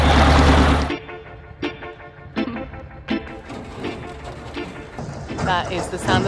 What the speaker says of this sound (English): That is the sound of the ice breaking again.